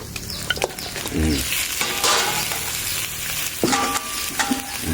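Spicy pork curry paste being stir-fried in a hot pan for a Thai red pork stir-fry, with loud continuous sizzling and the steady scrape of a spatula stirring, close up, with no voices.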